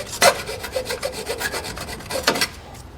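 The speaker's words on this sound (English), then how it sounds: "we can take a file or some sandpaper to clean up those sharp edges there." A hand file rasps over the sharp cut metal edges of a tow base plate on a 2019 Buick Envision, with quick repeated back-and-forth strokes, close and clear.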